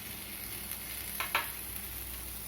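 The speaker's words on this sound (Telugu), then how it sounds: "దోరగా వచ్చేంత వరకు వేగనివ్వాలి." Onion dosa batter crisping in a hot pan, giving a soft continuous sizzle with two brief brighter crackles near the middle, close and fairly quiet, with no voices.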